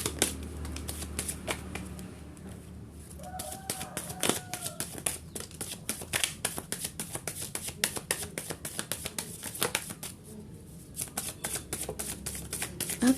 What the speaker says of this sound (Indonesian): kita turunkan dulu kartunya ya